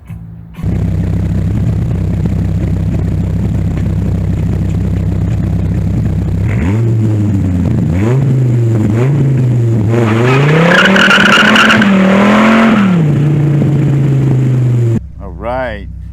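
A Dodge Viper RT/10 sports car idles low, then accelerates hard on a road in South Florida, its engine rising sharply through several surges with a squeal of tyres before easing back, loud and close.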